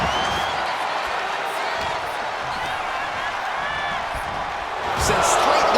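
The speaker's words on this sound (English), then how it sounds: "I think the crowd knows what's coming" Arena crowd noise in the wrestling game WWE 2K25, a steady murmuring roar under commentary that swells louder near the end.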